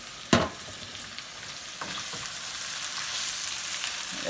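Sausage and spices browning in a gumbo pot give a steady, moderately quiet sizzle and fry, with one sharp clatter near the start and a few soft stirring knocks after it, and no voices.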